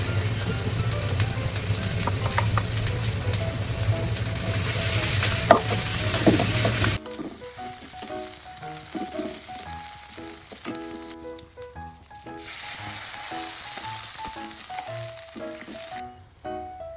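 Ginger-garlic paste and ground cumin sauté in hot oil in a wok. A loud, steady sizzle gives way to a quieter crackle with scraping stirs and light spatula clinks, all close by with no talking.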